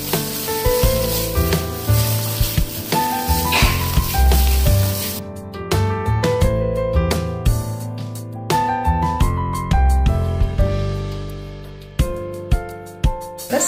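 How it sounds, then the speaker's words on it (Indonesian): Food frying in a pan is stirred, a steady sizzle under repeated scraping and knocking of a utensil against the pan, close and fairly loud throughout. "Ini kita aduk."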